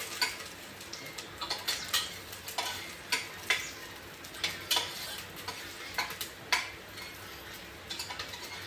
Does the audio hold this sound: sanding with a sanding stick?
no